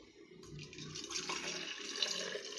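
Juice pours into a glass in a steady, splashing stream that grows fuller as the container fills, close and clear with no talk over it.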